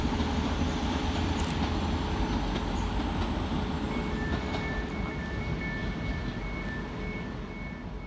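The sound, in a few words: TransPennine Express Class 185 train departing Manchester Oxford Road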